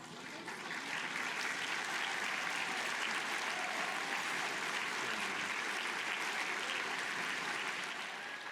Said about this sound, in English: Let's give a round of applause to these 10 National Book Award honorees.